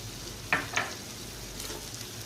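Chicken fried rice seasoned with black pepper, crushed chillies and cumin is stirred in a pan, two quick scraping strokes against a faint sizzle, then a softer scrape; no talk.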